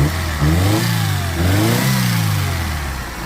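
A 2005 Daewoo Nexia with a 1.5 engine revving up and down several times, its pitch rising and falling in repeated sweeps. The engine is loud and close, with no talking over it.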